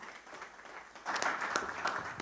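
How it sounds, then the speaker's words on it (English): Applause from an audience, a steady wash of clapping that swells after a quieter start and carries on at moderate loudness. "Let's give him again another round of applause."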